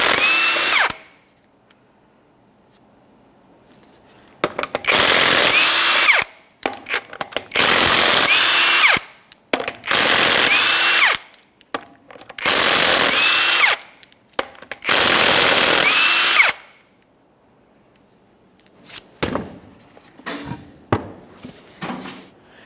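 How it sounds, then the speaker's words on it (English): An impact power tool removes the 21mm lug nuts from a 2004-2008 Ford F-150 wheel in five loud, sustained rattling bursts separated by quiet gaps, followed by lighter clinks and handling noises. "Now that exposes our 6 21mm lug nuts. Let's remove all those so we can remove our wheel."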